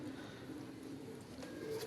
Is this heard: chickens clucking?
no